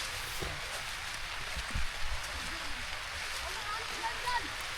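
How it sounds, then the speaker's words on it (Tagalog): Rain falling outdoors over a squash patch in the Philippines forms a faint, steady hiss with a few soft low thuds mixed in, quiet and continuous throughout. "Ulan."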